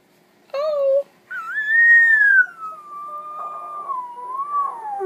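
A husky gives a brief whine, then a long, soft, wavering howl that rises and slowly falls, close by and fairly quiet.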